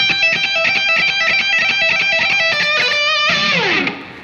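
A fast electric guitar riff repeats quick high notes with rapid pull-offs, bright and slightly distorted, ending in a descending slide that fades out.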